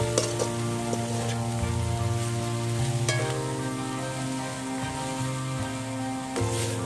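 Coconut burfi mixture sizzles steadily in a hot pan, with occasional scraping and stirring noises over a continuous frying hiss. No one speaks.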